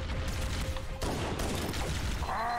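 Dense gunfire and explosions in the first-person shooter Halo: CE Anniversary, a loud continuous barrage with bursts and booms filling the whole stretch, a sudden shift in the mix partway through.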